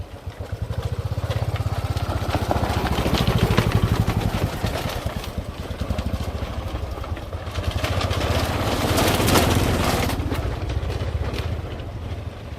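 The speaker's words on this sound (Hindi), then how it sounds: "ये हमारी बाइक।" A motorcycle engine runs steadily near a river and a handmade bridge in Bengal, a continuous throbbing drone with wind buffeting the microphone, swelling and easing over several seconds.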